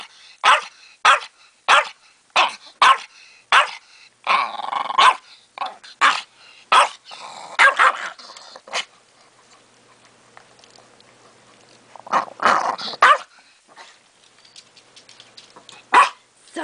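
A dog barks repeatedly in sharp bursts, with stretches of growling mixed in, close and loud, then a quieter lull before a few more barks.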